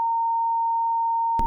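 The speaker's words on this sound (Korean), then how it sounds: "이거 나도 삐처리하고" A censorship bleep: one steady pure electronic tone holding for over a second, loud and alone, ending with a brief burst of noise.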